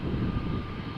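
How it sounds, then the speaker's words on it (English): Embraer jet airliner at Amsterdam Schiphol Airport, a steady, moderately distant engine roar with a broad rumble lasting the whole second. "like a SkyTeam livery Embraer."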